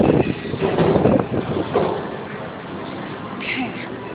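Gusty wind buffets the microphone while someone walks outdoors up to a hotel, a loud rough rumble that swells in the first half and settles to a steadier roar, with scattered speech mixed in.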